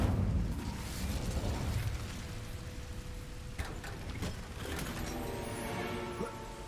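Incendio fire spell cast in a Harry Potter video game set in the Room of Requirement, a muffled whooshing burst with low rumble and crackle that fades, followed by lighter game effects and a faint tone.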